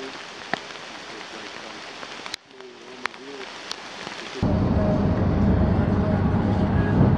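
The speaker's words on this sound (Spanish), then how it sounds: "está empezando a llover muchísimo" Heavy rain in a forest, starting as scattered drops with a few sharp taps, then suddenly swelling into a loud, dense downpour that hisses steadily to the end.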